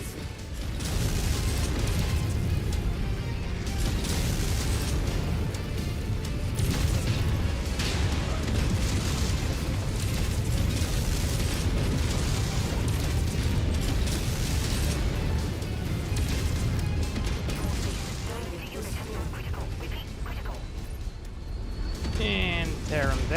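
Missile explosions in the MechWarrior 5: Mercenaries video game rumble as a continuous dense barrage of booms and bursts, loud and close throughout, layered with mechanical battle noise and a voice speaking over it.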